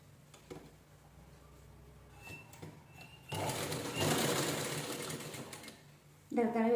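Sewing machine stitching a cushion cover made from blouse fabric, quiet at first and then running in a steady whirring burst, with a voice talking nearby.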